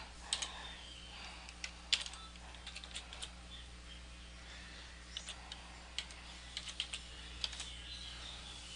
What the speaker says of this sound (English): typing my password.